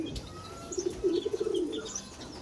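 A racing pigeon breeder gives a short, soft run of throaty coos midway through, faint and close against a quiet background with a few light chirps.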